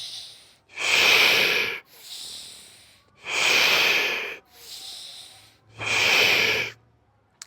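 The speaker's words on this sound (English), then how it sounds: "Last one, big inhale, big exhale" Deep breathing exercise with big inhales and exhales, three long loud breaths, each a rushing airy draw followed by a push out, close to the microphone with short pauses between.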